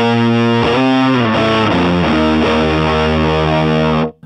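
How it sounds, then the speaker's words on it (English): Electric guitar playing moving octave lines through distortion and chorus, a thick sustained tone that shifts pitch every half second or so and cuts off abruptly near the end, loud and alone. "I love the sound of octaves"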